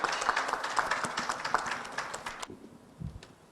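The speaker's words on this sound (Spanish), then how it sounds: "Les pido un fuerte aplauso para el señor Mesías Guevara." An audience applauds a speaker at a formal event, a dense patter of clapping from many hands, moderately loud, which stops abruptly and leaves a quiet room with a few faint knocks.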